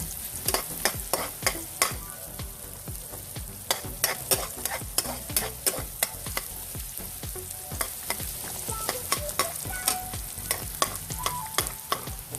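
Aromatics are sautéed in a pan until golden brown for pork adobo, a gentle sizzle broken by quick, repeated scraping strokes of a spatula all the way through.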